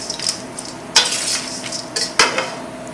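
A spoon scrapes and stirs brown sugar through warm homemade granola in a pan, giving a soft gritty rustle broken by two sharp clinks against the pan's side, with no voices.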